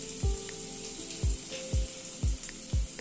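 Chopped garlic frying in butter and oil in a pan, giving a faint steady sizzle with soft low thumps recurring about every half second.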